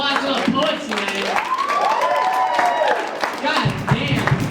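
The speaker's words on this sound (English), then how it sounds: "Round of applause to the poets tonight." An open mic night audience applauds and whoops for the poets, with clapping throughout and raised voices calling out over it, loud and close in a small room.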